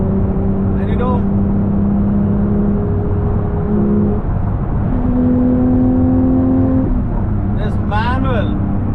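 A Porsche 911 GT3 Touring with a manual gearbox hums along a road trip drive, its engine steady and close with pitch steps as it changes load, while people talk over it.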